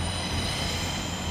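A train pulls out of Darlington station with a steady, loud rumble of wheels on rail and a faint metallic squeal running underneath, unbroken for the whole moment.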